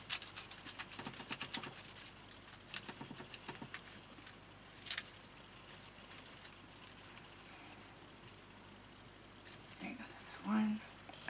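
An embossing tool rubs and scratches paper through a template in quick, close, quiet strokes, with pauses between the bursts and a short tonal squeak near the end.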